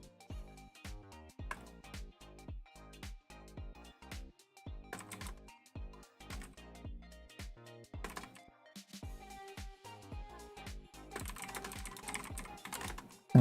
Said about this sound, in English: I think you can probably hear me typing away.